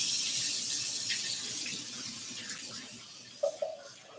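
Tap water runs into a kitchen sink while potatoes are rinsed, a steady close hiss that gradually softens, followed by a couple of brief knocks near the end.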